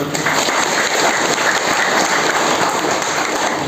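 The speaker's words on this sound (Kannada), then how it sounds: "ಒಂದ್ಸಲ ಜೋರಾಗಿ ಚಪ್ಪಾಳೆ ಹೊಡೆದು" An audience at a free foot pulse therapy camp clapping loudly together, a dense, even roar of hands held steadily for several seconds.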